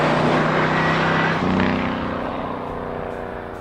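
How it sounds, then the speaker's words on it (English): A turbocharged 1971 Oldsmobile Cutlass S71 V8 muscle car drives under load while building boost, a loud, steady engine roar that holds close and then eases off slightly as it carries on. "when you get this thing warmed up and you drive this car a little bit and start to lean on it and build some boost"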